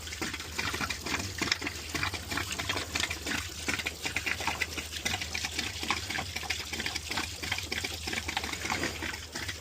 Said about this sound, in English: So we'll just let all the water drain out of all this stuff here.